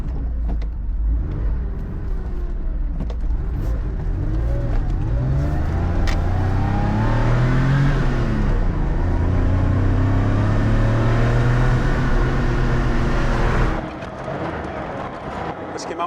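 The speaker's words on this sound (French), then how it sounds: "Il est beau ce son. Ah ouais, le Flat 6, il est vraiment sympa." Porsche 911 with a flat-six engine heard from inside while driving, a steady rising and falling engine drone with gear-change sweeps that carries on throughout, then eases off near the end.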